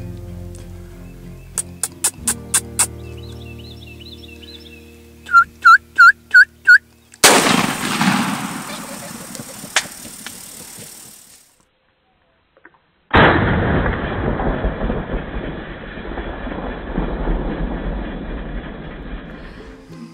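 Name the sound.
gunshot while turkey hunting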